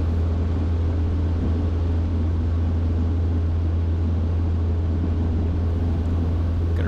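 A small airplane engine roars at full throttle during a first solo takeoff, a loud, steady, unbroken drone heard from inside the cockpit with no talking.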